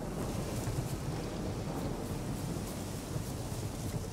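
Steady rain hisses continuously with a low rumbling undertone of distant thunder, dense and even throughout, in the video game The Witcher 3.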